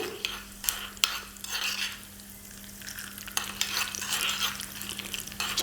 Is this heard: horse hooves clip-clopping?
no